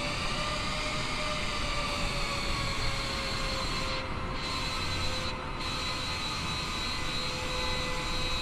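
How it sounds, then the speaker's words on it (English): Large airliner jet engines roaring steadily under reverse thrust on one side while taxiing toward the gate, a loud sustained whine with layered tones and no voices. "This aircraft's a little big to try to maneuver, so sometimes I use a reverse thrust on one side."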